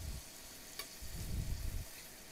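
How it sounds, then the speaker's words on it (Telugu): Fried paneer pieces drop into a pan of hot gravy and oil, setting off a steady close sizzle with a brief clatter and a stirring swell partway through. No one speaks. "తర్వాత వేయించి పెట్టుకున్న పన్నీర్ పీసెస్ అన్నిటినీ ఇందులో వేయాలి."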